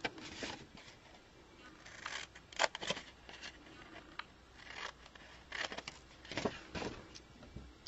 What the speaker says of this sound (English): I'm going to choose to just use my scissors